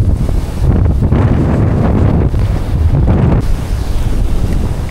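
Strong sea wind buffets the microphone during light-tackle popper fishing from a boat, a loud roaring rush with gusts and the wash of waves beneath.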